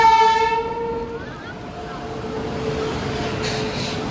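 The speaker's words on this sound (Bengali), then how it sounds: "ট্রেন চলে এসছে।" A train pulls into a station: a loud horn blast fades at the start, then a steady rolling rumble of rail cars continues, with faint background voices.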